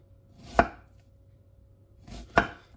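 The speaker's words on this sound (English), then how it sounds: "making these slices through the onion this way about 1/8 of an inch" A knife slicing an onion on a cutting board for shrimp étouffée, two crisp single chops about two seconds apart, close and clear with quiet between them.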